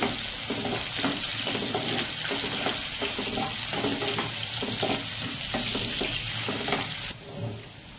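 Chopped onions fry in oil for a thotakura tomato curry, a loud continuous sizzle with occasional stirring scrapes, close up, ending abruptly in quieter rumble near the end; nobody speaks.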